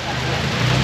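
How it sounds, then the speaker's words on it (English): Heavy rain pounds down in Khao Yai National Park, Thailand, a dense, loud, continuous hiss filling the whole brief moment. "That's crazy rain."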